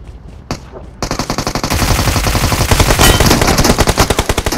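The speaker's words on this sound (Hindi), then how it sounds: "पहाड़ी पे भी बंदे हैं जो कि इधर ही फायर कर रहे हैं" Sustained automatic gunfire from enemy players in BGMI / PUBG Mobile: a few single shots give way to a loud, rapid, continuous burst of rattling rounds that keeps going without a break.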